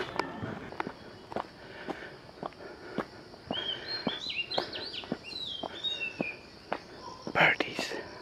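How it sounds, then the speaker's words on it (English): Birds chirp and call outdoors during a walk near a landfill, with a run of short tweeting phrases over steady footsteps and soft background hiss. "Here are the birdies."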